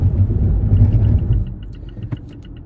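Mazda CX-5 SUV braking hard on a road test: a close, deep engine and road rumble dies away as the vehicle slows, leaving a few faint clicks and ticks.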